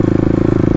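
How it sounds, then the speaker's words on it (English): Kawasaki KLX351 dual-sport motorcycle in Stage 3 trim with a loud Barker exhaust, ridden in the city: a steady, close, loud exhaust drone with rapid, even firing pulses and no voices. "It's hard not to draw attention with this Barker exhaust. It's pretty loud."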